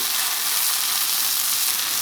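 Onions sizzling and frying in a cast iron pan, a loud, close, continuous crackling hiss with no pauses.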